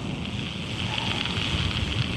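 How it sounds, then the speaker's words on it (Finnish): Steady wind blowing from the side rushes past, a broad continuous noise with no pauses and no voices. "tässä kohdassa toi tuuli puhaltaa"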